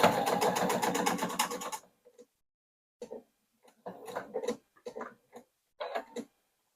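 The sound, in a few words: sewing machine stitching binding on a phone tote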